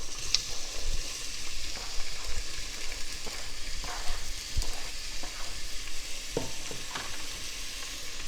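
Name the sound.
onions sizzling in a frying pan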